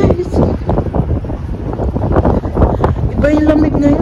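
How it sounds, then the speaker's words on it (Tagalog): Heavy, cold wind in Canada buffeting the microphone with a low, roaring rumble, while people talk and exclaim over it. "Ang lakas ng hangin, guys!"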